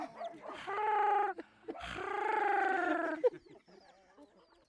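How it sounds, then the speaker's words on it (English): Chickens on an African farm let out long, drawn-out squawking calls close by, two sustained cries followed by softer chirps. "Come to me, chickens."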